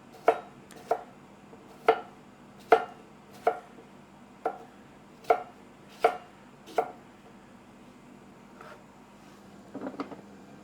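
A knife chops cucumber on a board in eight crisp, evenly spaced taps at close range, followed by a pause and a few softer rustles near the end.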